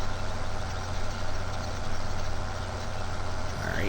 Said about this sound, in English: But it is a really, really nice tractor.